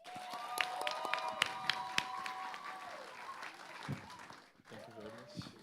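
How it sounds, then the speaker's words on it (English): An audience applauds at the EBN relaunch event, with sustained clapping and sharp individual claps that fade out after a few seconds. Voices murmur underneath. "And a round of applause for them once again, please"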